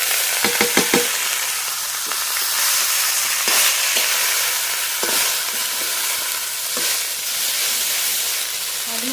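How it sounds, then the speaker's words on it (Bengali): Matar shak pea greens go into hot oil already tempered with whole garlic and slit green chilies, giving a loud, steady sizzle with a few clattering stirs near the start. "চেরা কাঁচা লঙ্কা, ফোড়ন করে নিয়েছি। শাক ঢেলে দেবো,"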